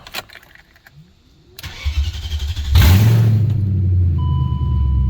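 A car fires up after coming off a battery charger, its starter cranking briefly before the engine catches with a loud burst and settles into a steady, close rumbling idle.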